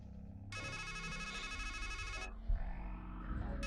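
An electronic phone ringtone in the video game Strangeland chimes in a rapid, repeating high pattern for a couple of seconds, then cuts off, over a low background of rumbling game music.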